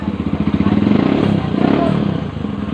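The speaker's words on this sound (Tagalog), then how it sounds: "Medyo galit na yung motor ni Bustuto" A Yamaha motorcycle engine revs hard and close, its rapid throbbing pulses swelling and easing as the throttle is worked.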